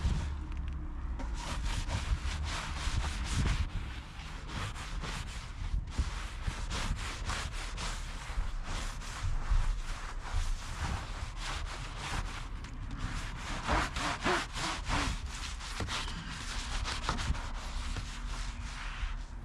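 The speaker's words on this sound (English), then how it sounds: "The scrub makes quick work of these flat panels." A scrub brush works grime off the flat panels of an abandoned, crashed police car, making steady, close rasping strokes that repeat in quick bursts with no voices.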